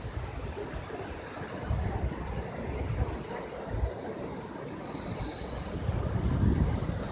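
A river rapid in the hills on the Ghandruk trek in Nepal, heard as a steady broad rushing roar of churning water with gusts of wind across the microphone, fairly close and continuous throughout.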